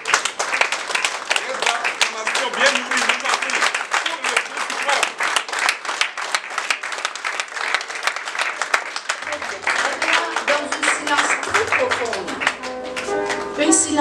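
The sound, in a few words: audience applause at conference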